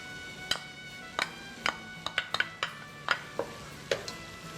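Plantain pieces land in a hot cooking pan with a series of sharp, separate clinks and taps spread out one after another, close and clear, with a faint sizzle underneath and no talking.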